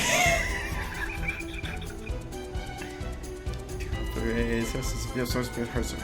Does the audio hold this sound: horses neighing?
yes